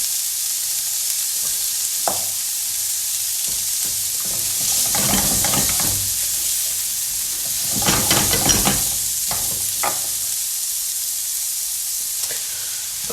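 Onions are stir-fried in a frying pan rather than a wok, making a steady close sizzle and hiss, with scraping bursts as a utensil stirs and breaks them up.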